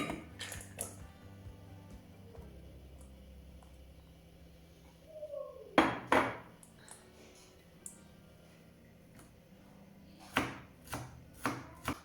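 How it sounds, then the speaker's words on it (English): Wonton filling is chopped finely with a knife in short clustered bursts of sharp blade strikes on a board, separated by quiet pauses. The chopping is close and crisp, and no one speaks. "You need to try to cut as small as possible"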